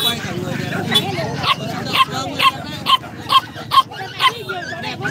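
A small, short-legged dog yapping at the Bac Ha dog market in Vietnam, a string of sharp, rapid barks close by, with someone talking in between.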